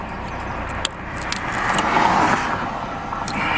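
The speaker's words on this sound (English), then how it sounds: "these cars is out here coming by like NASCAR" A car passes close by with a rising then fading engine roar, over a steady hum of road traffic.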